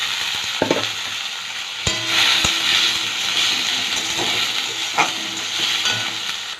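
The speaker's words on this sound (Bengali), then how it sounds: "কেটে রাখা পেঁয়াজ, কেটে রাখা টমেটো ও কাঁচা লঙ্কা সব একসাথে দিয়ে দিলাম।" Chopped onion, tomato and green chillies fry for tadka dal, sizzling steadily while a spoon clatters and scrapes against the pan several times.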